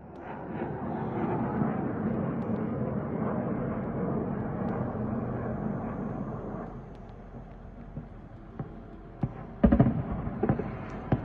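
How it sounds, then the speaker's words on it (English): An X-101 cruise missile arrives over Chernivtsi with a distant, rumbling jet roar that holds steady for several seconds, fades, then gives way to a few sharp crackling bangs near the end. "Footage of an X-101 cruise missile arriving in Chernivtsi."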